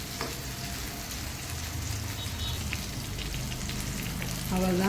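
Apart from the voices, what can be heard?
boneless chicken 65 frying in a pan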